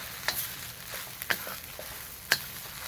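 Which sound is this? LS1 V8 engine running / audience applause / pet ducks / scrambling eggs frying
scrambling eggs frying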